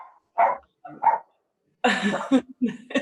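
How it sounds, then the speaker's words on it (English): A pet dog barks several times in short bursts early on, then people talk close by while the dog keeps yipping in between. "Is that your dog?"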